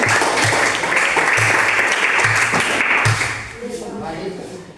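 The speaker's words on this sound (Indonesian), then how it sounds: "tepuk tangan untuk saling menghargai" A classroom of students applauds together, loud, dense clapping with a steady rhythmic pulse that thins and fades near the end, with voices mixed in.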